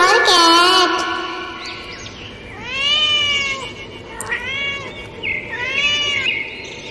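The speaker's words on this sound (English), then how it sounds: "C for cat." A cat meows close and loud, with several drawn-out, wavering calls spread across the stretch and short quieter gaps between them.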